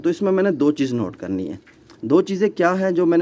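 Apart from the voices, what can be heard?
None of the usual background noises is heard.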